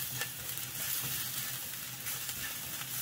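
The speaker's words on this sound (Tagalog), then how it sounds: "So, ayan na ang ating bawang. Gisa-gisa, guys." Garlic sautéing in butter in a frying pan, a steady close sizzle and crackle running through the whole stretch with faint stirring scrapes and no voices.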